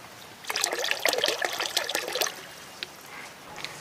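EM4 starter liquid poured from a bottle into a cow-manure fertilizer mix, a steady splashing trickle for about two seconds that then tapers into a few faint drips.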